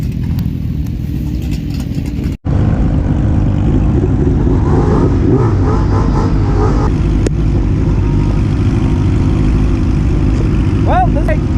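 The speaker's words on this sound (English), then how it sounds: "it's running like shit, and it keeps kind of trying to stall on me" A Suzuki GSX-R 600 motorcycle engine idles roughly and unevenly as if about to stall, a loud close rumble with a brief cut-out early, a voice talking over it.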